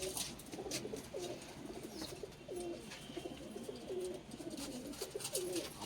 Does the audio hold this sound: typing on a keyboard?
no